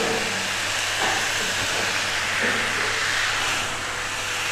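Potatoes and meat stirred in a pan with soy sauce for chilli chicken, giving a steady, loud broadband frying hiss that runs continuously, with faint scraping underneath and no talk.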